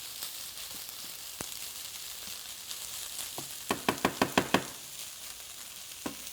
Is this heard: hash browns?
yes